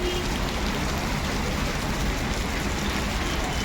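Sudden heavy rain pouring down over Nagpur, a steady dense hiss of downpour that stays loud and even throughout, with no voices.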